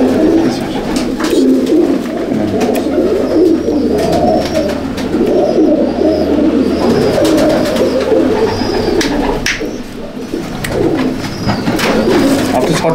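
Old-breed Madrasi pigeons (Ablook pairs) coo continuously and close up, a thick low rolling murmur from several birds with occasional faint higher calls and little talk.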